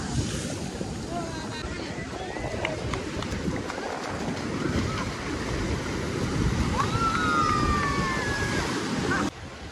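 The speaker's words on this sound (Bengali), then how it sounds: "দেখতে পাচ্ছেন ঢেউগুলো একবার দেখে নিন আমার পিছনে, অসাধারণ অসাধারণ লেভেলের ঢেউ।" Sea waves breaking at Bakkhali beach make a steady, loud roar of surf, with wind buffeting the microphone throughout and faint voices in the background.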